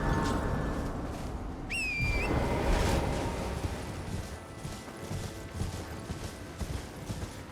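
Horse hooves clopping in the Elden Ring video game, a run of rhythmic hoofbeats under a brief whistling tone and ambient game sounds, at moderate level with no talk.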